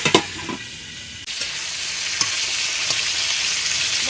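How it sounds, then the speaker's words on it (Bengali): Pointed gourd (potol) frying in oil in a village kitchen, a few stirring knocks, then a lid lifts and a loud steady sizzle takes over and holds. "আর একটু ভাজা হবে"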